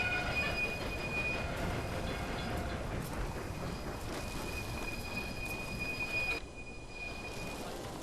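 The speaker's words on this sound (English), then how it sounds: "Well, a fairly sizable train back down to Inverness." Train pulling into Thurso station in the Railway Empire game, heading back toward Inverness, a steady rolling rail rumble with a thin high wheel squeal running throughout, dipping briefly near the end.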